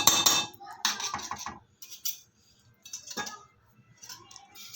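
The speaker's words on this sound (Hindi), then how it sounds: "इसको अच्छे से मिक्स कर लेंगे।" Spoon scraping and clinking against a pot while thick chocolate mixture is stirred with a teaspoon of butter, in irregular close metallic bursts separated by short pauses.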